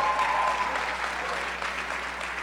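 Steady applause from an audience at a Louisville Campaign for Black Male Achievement event honoring a young man, dense continuous clapping with faint crowd sound, fading slightly toward the end.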